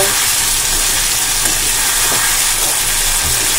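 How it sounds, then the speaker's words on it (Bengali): Masala sautéing in a pan over a medium flame, giving off a loud, steady, dense sizzle and frying hiss that fills the whole stretch, with no voices. "তো দেখো আমি আর একটু ভালো করে কষিয়ে নেব। তো মিডিয়াম ফ্লেমে রেখে দিয়েছি আমি।"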